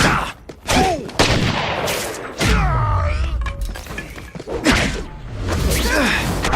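Bursts of gunfire and impacts in the Xbox 360 game The Amazing Spider-Man 2, loud and choppy, with shattering, thuds and whooshes mixed in alongside brief voiced lines.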